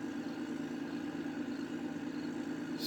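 A 12 valve truck engine idles in the Farming Simulator video game, giving a quiet, steady mid-low hum that stays even throughout with no changes in pitch or rhythm.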